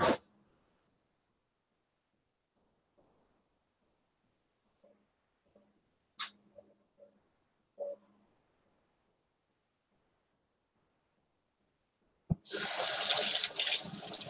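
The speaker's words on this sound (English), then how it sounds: "I'm gonna rinse the coconut." A kitchen tap bursts on loudly near the end, water rushing to rinse a Mexican coconut, after a long quiet stretch of faint scattered handling clicks and small knocks.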